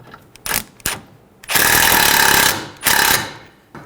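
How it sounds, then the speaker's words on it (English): Power tool driving a 15mm socket to tighten a sway bar link nut on a 2003-2008 Honda Pilot, loud close bursts of rapid impact rattling, a few short stutters then two longer runs. "Using a 15mm socket, we're going to tighten the nut."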